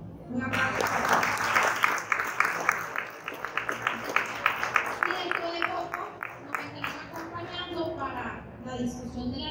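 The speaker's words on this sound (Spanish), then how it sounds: "Un aplauso para ti." An audience at a Spanish-language public event on social and cultural policy applauds a neuropediatrician being honored. Dense, steady clapping with a rhythmic edge keeps going for several seconds under voices and cheering.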